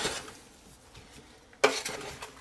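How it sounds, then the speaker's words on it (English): A spoon stirs thick tomato bolognese sauce with basil and thyme in a pressure cooker, giving soft scraping swishes and a sharp clack against the pot partway through. "Give that a mix through."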